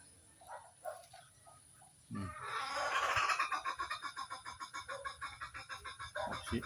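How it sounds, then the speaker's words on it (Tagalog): Chickens clucking and cackling in a steady run of short rhythmic calls, fairly close, with a burst of louder squawking midway. "Kaya pang mga busog yung ating mga manok, alagang manok, nandito lang sila"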